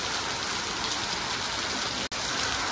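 Steady rain pours down in a continuous, even hiss that fills the whole clip, loud and close, with no voices over it.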